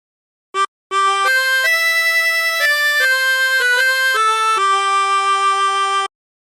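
A 16-hole tremolo harmonica plays a phrase of How Great Thou Art, a short opening note and then a run of sustained, wavering reedy tones changing pitch step by step, clear and close with no talk.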